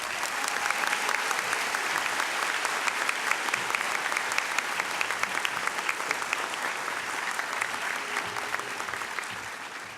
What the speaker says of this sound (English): Please join me in offering an enthusiastic welcome to these students.